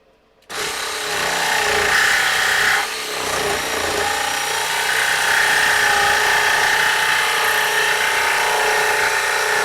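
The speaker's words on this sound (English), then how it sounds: "I'm going to just cut that out with the jigsaw" A jigsaw cuts through a piece clamped on a workbench for a custom center console, starting abruptly and running loud and continuous with a brief dip in pitch partway through the cut.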